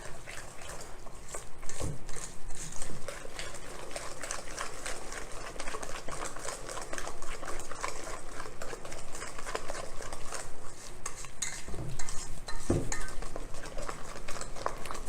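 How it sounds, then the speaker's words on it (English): Cornbread batter is stirred in a bowl, a continuous close scraping and clinking of utensil against the bowl with a few sharper knocks, no talking. "So I'm just going to mix that all together."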